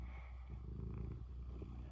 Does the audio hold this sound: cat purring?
yes